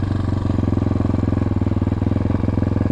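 Motorcycle engine in first gear as the clutch is let out very slowly, a steady close thudding pulse running evenly throughout with no other sounds.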